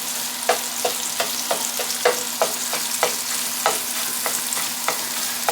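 Sausage being chopped and stirred in a pan for sausage gravy, a utensil tapping and scraping in a steady rhythm of a dozen or so close strokes over a soft sizzle and a constant low hum.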